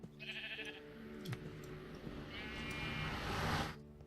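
Sheep bleat in the video game Thaumaturge, one nasal bleat early and a longer, louder wavering bleat near the end, over a steady low background drone.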